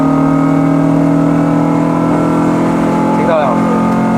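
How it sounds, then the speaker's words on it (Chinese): A Honda Civic EG9 engine revs up to 5000 rpm into VTEC, giving a loud, steady, close-up drone whose pitch climbs briefly near the end. "我们来听一下开 VTEC 的声音，5000转"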